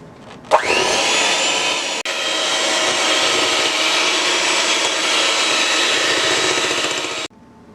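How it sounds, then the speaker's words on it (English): An electric mixer beats lemon pound cake batter in a kitchen. It starts suddenly with a click, runs as a steady loud whirring hum for about seven seconds, then cuts off. "And now I'm going to get my mixer."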